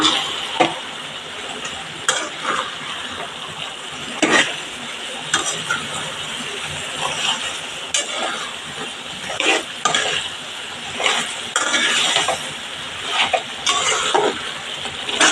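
A spoon scrapes and stirs through chicken frying in a pan, with a steady sizzle and repeated clinks and scrapes of the utensil against the metal.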